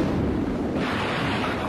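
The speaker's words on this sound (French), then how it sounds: "Un orage?" A thunderstorm rumbles with a steady, loud, broadband roar of thunder that holds throughout, with no talking over it.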